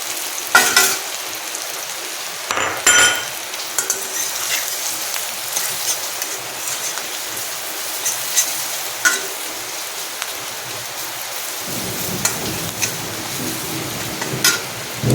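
Ground spices sizzle steadily in hot mustard oil for a pointed gourd curry, with close, loud frying hiss punctuated by scraping stirs of a spatula in the pan, and no talking.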